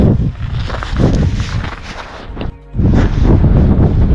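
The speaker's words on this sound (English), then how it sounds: "This wind is unbelievable." Strong gusts rake across an exposed ridge and roar against the microphone in heavy, buffeting surges, with a brief lull partway through before the loud blowing returns.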